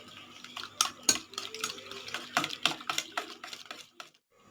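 Egg omelette mixture with pepper whisked in a bowl for a roadside-style bread omelette, a rapid irregular series of close clinking, tapping strokes against the bowl, then stopping.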